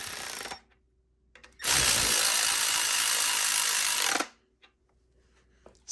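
A power tool runs in one steady, loud burst of about two and a half seconds while driving oiled bolts down on a 2JZ engine bottom end, with quiet pauses before and after.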